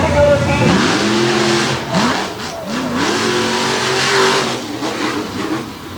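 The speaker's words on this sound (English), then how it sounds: "Pair of 540 cubic inch racing engines on the line" Monster trucks with a pair of 540 cubic inch racing engines accelerating at the start line at Winchester, a loud sustained roar with rising revs, while an announcer talks over it.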